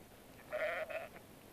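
A single sheep bleats once during lambing season on a cold March farm, a short, wavering call at moderate distance over a quiet background.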